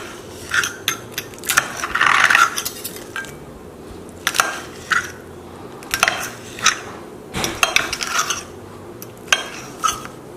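Instant Pot baked zucchini cut open with a knife and fork on a plate: scattered clinks and scrapes of metal cutlery against the dish, close and sharp, spaced irregularly with quiet gaps.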